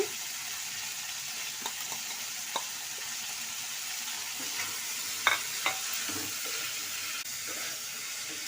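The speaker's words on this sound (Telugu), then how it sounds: "ఇలా మీడియం ఫ్లేమ్లో పెట్టుకొని వేపుకున్నాము" Cauliflower pieces with salt and turmeric frying in a pan over a medium flame: a steady soft sizzle with a few light clicks of stirring, no talk.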